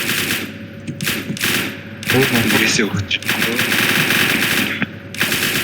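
Rapid automatic gunfire from a heist video game rattles in bursts, strongest through the middle of the clip, with players talking over and between the shots.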